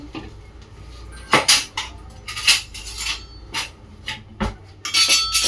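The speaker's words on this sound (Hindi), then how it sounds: "तवे पे डालेंगे हम घी और रख देंगे हमारी ब्रेड। अच्छे से इसको प्रेस करेंगे।" Bread pressed onto a ghee-greased tawa, with scraping and clinking of a utensil against the griddle, several sharp knocks and rubs at close range.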